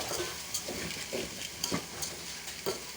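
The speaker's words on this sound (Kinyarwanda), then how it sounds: "Turavanga neza kugira ngo byivange" Rice with carrots, green beans and ginger is stirred in a pot, a quiet scraping with soft repeated spoon knocks roughly every half second over a faint background hiss; no one speaks.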